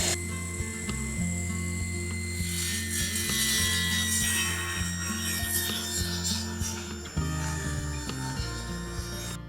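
A saw cuts through a 3/4 inch sheet of plywood with a continuous, close rasping grind that holds steady throughout, broken by brief catches and bumps in the stroke.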